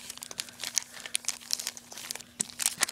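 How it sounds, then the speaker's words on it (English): Crinkling plastic wrappers of fresh Pokemon XY booster packs from an Elite Trainer Box, handled close up in a steady run of sharp crackles and rustles with no voices. "I love that crinkle of fresh packs to open"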